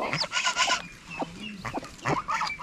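A wild jungle fowl hen clucks softly with her newly hatched chicks peeping high around her, close up in the forest, in short repeated calls with no talking.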